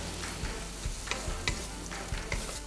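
Shrimp frying in a pan with garlic and onions, a steady close sizzle broken by repeated stirring scrapes and clicks of the utensil against the pan, with no talking.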